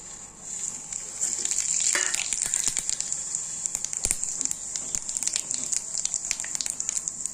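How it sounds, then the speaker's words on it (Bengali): Whole cumin, bay leaf and whole garam masala hit hot oil for paneer masala, giving a steady hissing sizzle with crackling pops throughout. "এই যে তেলের উপর দিয়ে দেবো সাদা জিরা, তেজপাতা আর হচ্ছে গোটা গরম মশলা"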